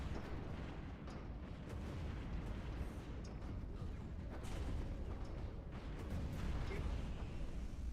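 Torpedo fire in a Stellaris space battle, a video game, comes as a steady, dense wash of rumbling bursts and booms that runs loud and unbroken, with no voice over it.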